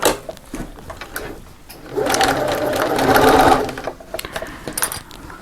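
A sewing machine stitching around the top of a fabric box part for a double cup holder, a steady motor whir for about two seconds between softer handling sounds and clicks.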